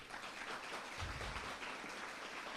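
A congregation at a religious lecture about the Ark of the Covenant applauds in a soft, distant wash of clapping that holds steady for a few seconds with no talking.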